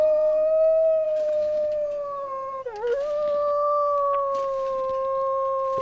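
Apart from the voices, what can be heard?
wolf howling in the video game The Long Dark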